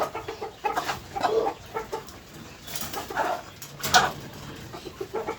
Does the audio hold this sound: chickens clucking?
yes